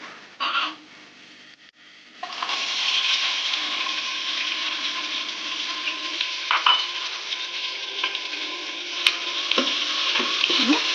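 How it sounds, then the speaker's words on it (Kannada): Onions sizzling and frying in hot oil inside a pressure cooker while chicken biryani is being made, a steady loud crackling hiss after a brief stir and clatter at the start. "ಇವಾಗ ನಾವು ಈರುಳ್ಳಿನ ಸೇರಿಸ್ಕೊಳ್ಳೋಣ."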